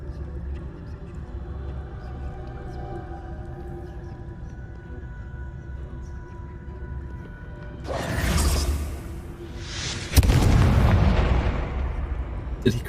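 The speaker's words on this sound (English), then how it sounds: "Did he create an explosion?" An explosion in a video game: a rising whooshing swell followed by a loud, broad blast that lingers and rumbles over a low, steady ambient hum, with no one talking.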